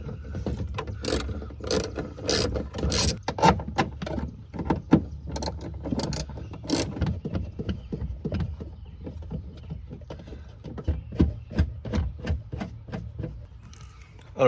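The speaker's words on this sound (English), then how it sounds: "You can use an 11mm or a 7/16 long socket" A ratchet with a long 11mm socket loosens the nuts holding a car tail light, heard as close bursts of rapid clicking with pauses between them, busier at first and then sparser; no one speaks.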